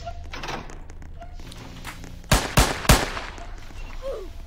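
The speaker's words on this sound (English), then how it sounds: "Somebody shooting down the hallway." Gunfire down a hallway in the video game Roblox: three sharp, loud shots in quick succession with slight echo, standing out over quieter background game sounds and faint chatter.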